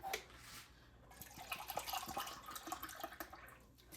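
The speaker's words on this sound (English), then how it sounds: "And so I put my water in this." Water is poured into a cooking pot for homemade taco soup with canned tomato soup, a soft, uneven splashing and trickling that rises and falls for several seconds, fairly quiet and close, with no talking.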